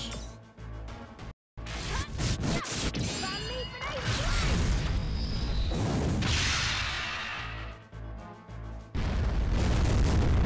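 In the Sakura Wars video game, a mortar is destroyed with a loud, booming explosion. A crashing blast is followed by a long, rumbling, noisy roar of debris and mechanical clatter, with speech faintly mixed in.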